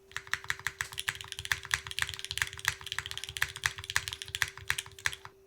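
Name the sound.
typing on Zephyr Lab Z1 keyboard with Cherry MX2A switches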